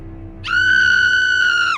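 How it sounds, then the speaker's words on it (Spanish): A woman lets out a single anguished scream, loud, high and sustained for over a second on one strained pitch before cutting off, after a quiet stretch of low background noise. "se escuchó un grito de angustia"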